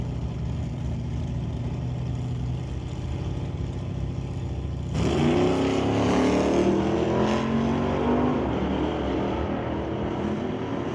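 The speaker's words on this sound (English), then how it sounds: "Kevin McCauley brings up the BDL Automotive Old School Cutlass from 1983. He races against two-time repeat champion Nick Douglas" A 1983 Old School Cutlass drag racing car launches at a sportsman race, its engine rising abruptly from a steady idle rumble to a loud, sustained roar.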